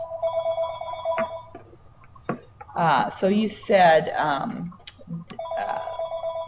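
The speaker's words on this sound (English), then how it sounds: "I apologize for the phone ringing in the background" A telephone rings in the background of an office, its trilling bell repeating in bursts at the start and end while someone talks over the middle stretch.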